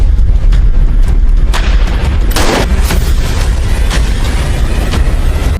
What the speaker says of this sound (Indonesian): Detektif yang ingin keluar karena ada suara tembakan, dan Garcia memperingatkan